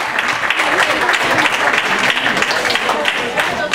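An audience at the Ringbuggen 2014 racing event claps steadily in a dense, continuous burst of applause, loud and close throughout.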